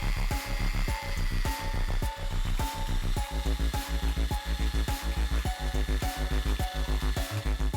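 An electric drill winds wire coils around a nail, its motor whirring in steady rhythmic pulses close up and loud throughout, with no speech.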